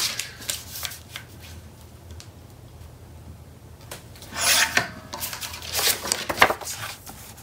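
Paper is trimmed for a Graphic 45 couture card cover, giving soft scraping rasps that build into a cluster of louder, gritty cutting strokes near the end, close up and with no talking.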